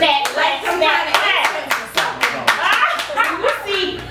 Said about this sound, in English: You got to snap and clap on that.